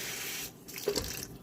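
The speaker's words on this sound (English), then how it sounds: "Then I just drain them and I rinse them with a little bit of cold water." Almonds drained and rinsed with cold water at a kitchen sink: running tap water splashing steadily, with a brief lull and a few sharper splashes near the end, close by.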